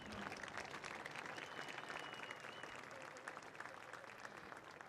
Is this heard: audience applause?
yes